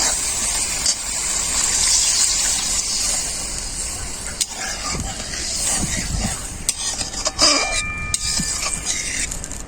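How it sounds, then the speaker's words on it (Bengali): Water gushes into a pan of well-fried spice paste for a prawn curry, a steady close pouring rush with sizzling and occasional clinks and stirring sounds, no talk. "মশলা খুব ভালোভাবে কষানো হয়ে গেছে, জল দিয়ে দেব।"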